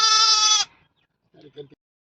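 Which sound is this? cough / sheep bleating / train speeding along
sheep bleating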